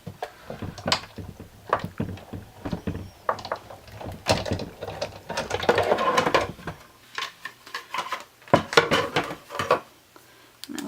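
Big Shot die-cutting machine hand-cranked to run a card through, giving a series of close clunks, ratchety knocks and rolling mechanical rumble in uneven bursts with short pauses, with no talk.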